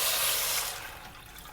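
About 1.5 liters of water pours into a soup pot, a gushing, splashing rush that is loud at first and then eases off over a second or two, with no talk.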